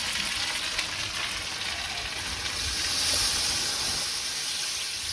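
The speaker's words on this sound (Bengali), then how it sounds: "মাংস রান্না ভাজা হয়ে গেছে, এখন জল দিয়ে দিব" Water added to a hot pan of frying meat, giving a steady loud sizzle and hiss with rising steam that swells slightly partway through, with no talking.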